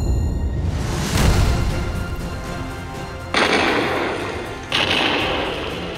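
Explosion effect: a heavy booming blast followed by rumbling, crackling debris, with two further sharp bursts of crashing noise, loud and close, no voices.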